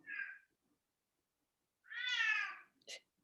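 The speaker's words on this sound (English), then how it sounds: "That's my cat that you're hearing." A cat meows three times close by: a short cry, a longer drawn-out complaint after a pause, then a quick chirp, with silence between.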